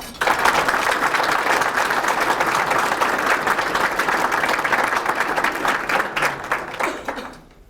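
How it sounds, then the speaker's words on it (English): Sustained applause from an audience at a JROTC superintendent's breakfast honoring a Good Apple Award recipient, steady dense clapping throughout that thins and fades in the final second. "could we please give her a round of applause"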